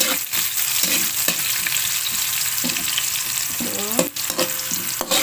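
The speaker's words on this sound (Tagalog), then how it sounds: "Kasi na mainit na mainit na. Ilaglag na natin pati sibuyas." Onions dropped into very hot oil for a home-style Filipino pork and chicken adobo, sizzling loudly and steadily with scattered clatters of stirring and a few metallic scrapes, no talking.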